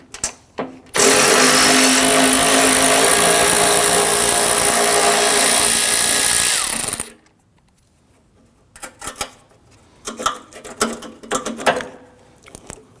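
A power tool whirs loudly and steadily for several seconds while backing out two 8 mm bolts at the active grille shutter of a 2010-2019 Ford Taurus, then stops, followed by quieter clicks and handling of parts.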